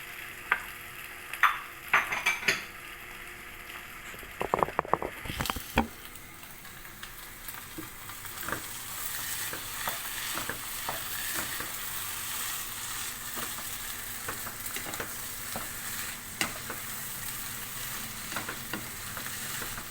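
Mashed potato with coriander and green chili is stirred in a pan, with a few sharp spoon scrapes and knocks early on, then a long quiet steady sizzle with faint scattered ticks.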